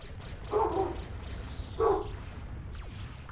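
Two short, separate barks from a household dog, roughly a second apart, at moderate distance over a steady background hiss, with no voices.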